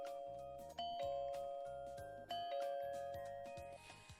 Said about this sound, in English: And I'm hit with a barrage with doorbell rings.